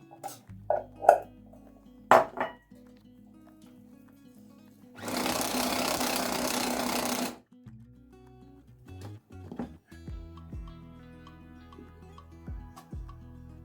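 An electric grinder mincing meat for cutlets whirs steadily for about two seconds in a quiet kitchen, surrounded by scattered clinks and clatters of utensils.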